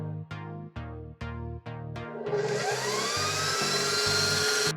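An electric mixer beats eggs into creamed butter and sugar for Linzer cookie dough, starting with several short bursts and then running as a steady, loud, continuous whir with no talking.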